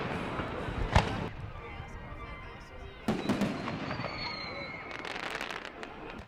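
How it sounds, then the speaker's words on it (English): Post-game Fourth of July fireworks after a Red Sox game, with sharp booms and crackling bursts at intervals over a steady crowd murmur and distant voices. "Sox fans had post-game fireworks to cheer them up and welcome in the fourth"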